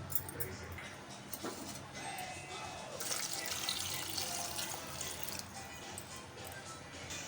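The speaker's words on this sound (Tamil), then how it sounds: "இதை பாயில் பண்ணுறதுக்கு தண்ணி விட்டுக்கலாம்." Water poured into a pot of drumsticks (moringa pods) being readied for boiling, a continuous splashing pour that swells in the middle, with kitchen clatter and faint talk underneath.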